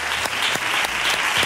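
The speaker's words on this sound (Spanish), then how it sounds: "yo doy las gracias y pido un aplauso" Studio audience on a Spanish late-night TV show claps steadily, a dense, close, continuous burst of applause with no talk over it.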